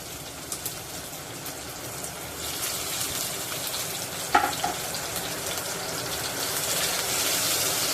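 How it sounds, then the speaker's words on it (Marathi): Garlic cloves and two green chilies fry in hot oil for a tadka, giving a steady, fairly loud sizzle throughout with one brief clatter midway and no talk. "लसणाचा कलर तांबूस होईल इतकं परतायचं आहे तुम्ही बघू शकता तेल गरम असल्याकारणाने लसणाचा रंग चेंज झालेला आहे"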